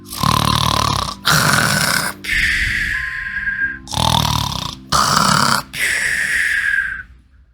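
Loud, exaggerated snoring in long rasping pulls, about five snores with short pauses between, close up; it sounds like a voice imitating snoring.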